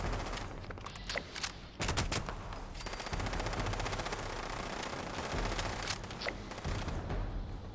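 Rapid bursts of automatic gunfire from a weapon in Fallout 76, aimed at mutant hounds, crackle in repeated volleys with brief pauses between them and no talk over the shooting.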